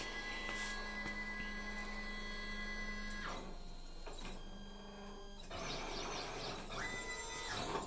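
Langmuir Crossfire Pro CNC plasma table driving an EasyScriber in its machine torch holder, stepper motors whining in tonal bursts that stop, change pitch and restart, fairly quiet and without talk.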